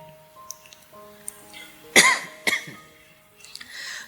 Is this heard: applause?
no